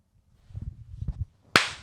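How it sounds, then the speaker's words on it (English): A single sharp hand clap marks an edit point during a podcast recording, a loud crisp burst that follows a short stretch of low muffled voices. "Just clapping to know where to go back to in the episode."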